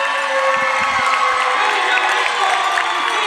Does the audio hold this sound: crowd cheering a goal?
yes